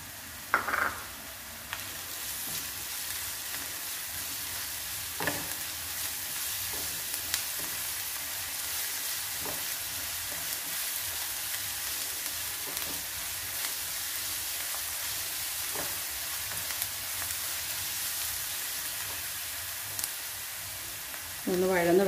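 Onion with crushed ginger and garlic sizzles steadily in a pan for a green pea and potato masala curry, a constant close frying hiss with a few soft stirring knocks and no talk.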